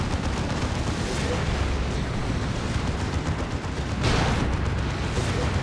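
Cannon fire in the video game Warhammer 40,000: Dawn of War 2, a dense rumbling barrage of booms and blasts with a heavier burst near the end, continuous and loud.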